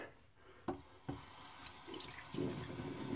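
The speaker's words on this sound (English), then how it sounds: "Let me rinse the face again." Running tap water splashes in a sink as a face is rinsed after a shave, close and fairly quiet, with a couple of sharp knocks early on and the flow and splashing growing louder toward the end.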